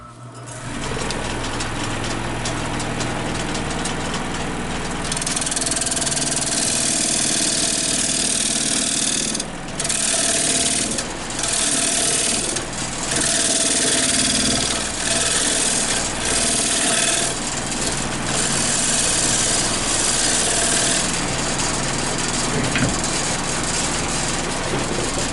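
Wood lathe tool cutting into the inside of a hard maple crotch bowl, a steady close rasping, scraping roar that runs almost continuously, with brief dips as the cut lets up and a faint rattle behind it.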